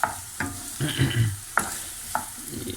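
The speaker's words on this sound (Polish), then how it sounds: "Cebulkę na patelni to teraz smażę ją do zeszklenia." Onion sizzles and crackles steadily in a pan, with several sharp scraping clicks as it is stirred, close up.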